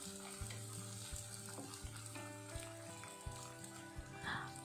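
Three or four large onions, chopped small, sautéing in a pan for a fish dish, giving a steady close sizzle with repeated scraping stirs and a low hum beneath.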